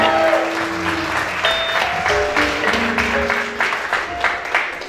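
An audience at an 81st birthday celebration at El Caribe in Brooklyn, New York, bursts into strong, close applause, with sustained tones and voices faintly underneath throughout.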